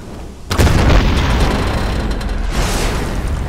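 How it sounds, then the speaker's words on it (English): Explosion in the Tomb Raider video game, a sudden loud boom that rolls into a long, roaring rumble, with a second surge of debris noise near the end. "Well, that was quite an explosion."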